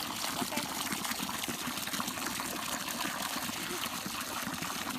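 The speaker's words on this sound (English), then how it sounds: "Go ahead, fill up your bucket" Spring water pours steadily into a bucket outdoors, a continuous broad gushing splash that stays loud and even from start to finish.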